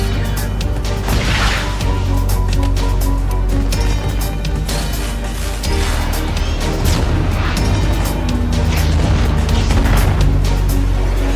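A low-flying gunboat fires into the White House grounds in the action film Olympus Has Fallen, with rapid loud gunfire bursts and booming explosions over a constant heavy roar, dense and close throughout.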